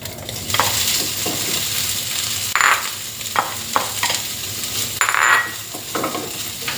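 Pickled radish stir-frying in plenty of hot oil over medium heat for a Thai radish-and-egg dish, steady sizzle with repeated spatula scrapes and clanks against the pan, close and loud.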